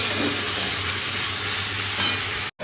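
Garlic, potatoes and carrots fry loudly in a pan for chowmein, a dense close sizzle with stirring scrapes, cutting off abruptly near the end.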